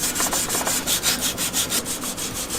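A steel zweihander sword blade is hand sanded with 180 grit paper in steady back-and-forth strokes, about five per second, making a close, loud and even rasping rub that carries on alone.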